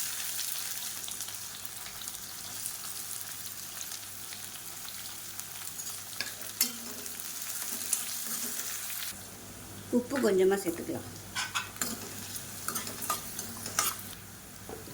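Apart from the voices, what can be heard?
garlic and chopped onion frying and being stirred in pan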